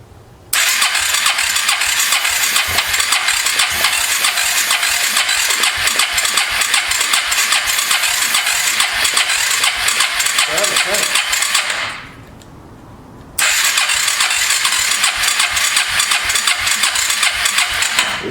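A Suzuki LTZ250 quad's engine cranks loudly and continuously as it tries to start, a dense churning drone that cuts out briefly and then resumes.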